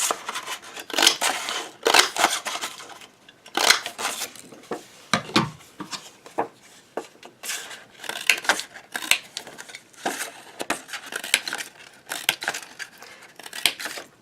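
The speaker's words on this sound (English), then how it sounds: "you're going to punch out a whole bunch of them using the paper that you like" Paper punch snapping through scraps of decorative paper for card making, a quick run of sharp crunchy clicks repeating at an irregular pace, close and fairly loud with no talking.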